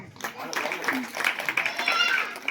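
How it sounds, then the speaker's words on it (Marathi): Audience clapping at a village prize-giving ceremony for children's races such as the lemon-and-spoon race: a scattered, rapid patter of hands that runs through the whole moment, mixed with chatter and children's voices nearby. "टाळ्या वाजवा सगळ्यांनी"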